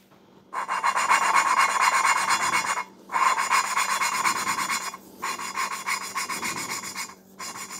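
Steady rasping, rhythmic grinding strokes close by as a valve seat on an M120 V12 cylinder head is lapped, repeated in long runs with brief pauses, the scraping tone shifting slightly over time.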